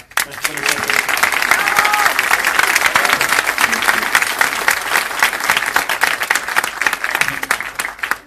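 An audience at Universidad de Valparaíso applauds Alberto Mayol as he is introduced, dense steady clapping from many hands filling the room for about eight seconds.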